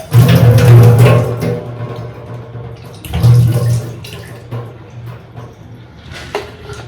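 Water splashing and running over baby milk bottles as they are rinsed clean, in two louder bursts near the start and around the middle with quieter trickling between, close up and without talk.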